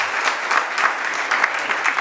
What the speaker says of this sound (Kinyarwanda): Mu by'ukuri reka dukomere amashyi y'Itorero.